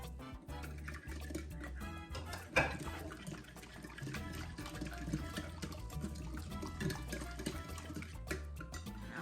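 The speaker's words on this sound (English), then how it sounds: "I'll add the water." Water pouring into a bowl of brownie batter ingredients, a quiet continuous trickle and splash running through the whole clip at close range in a home kitchen.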